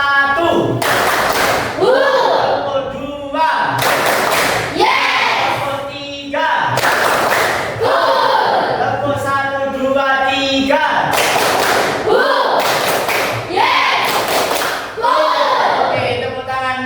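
A group claps together in a rhythmic clapping game at a morning school or office gathering in Jember, with bursts of fast clapping repeating every two seconds or so, mixed with shouted voices.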